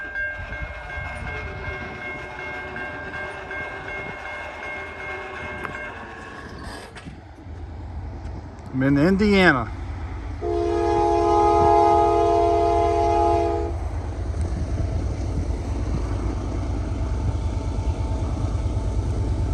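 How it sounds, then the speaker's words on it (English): A diesel-hauled grain freight train passes a railroad crossing in Indiana, its loud horn sounding in a few blasts over the steady rumble and clatter of the cars, with a brief line of speech early on. "It's like a grain train."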